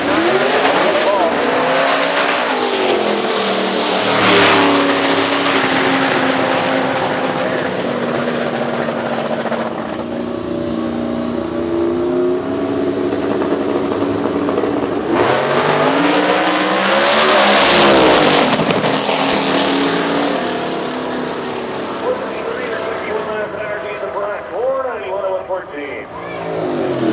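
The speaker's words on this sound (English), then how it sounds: "The blown Mustang of Hines and the turbocharged Mustang of J.R. Pines" A blown Mustang and a turbocharged Mustang in an X275 radial drag racing qualifying session roar down the strip with loud rising engine revs and tire noise, while a commentator talks over them throughout.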